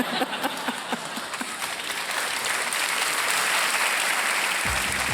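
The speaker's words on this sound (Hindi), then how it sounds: "अपनी ही कामयाबी पर जनता ताली बजा रही है।" Studio audience clapping on a televised quiz game show, a dense continuous wash of applause that swells midway, with a voice briefly heard at the start and a low tone entering at the end.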